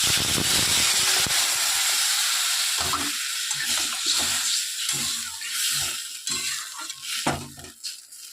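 Water poured into a pot of simmering vegetables with tomato pieces: a steady loud hissing pour that fades into bubbling and sizzling with some clatter near the end.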